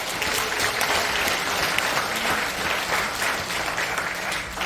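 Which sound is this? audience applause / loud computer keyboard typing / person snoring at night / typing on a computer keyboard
audience applause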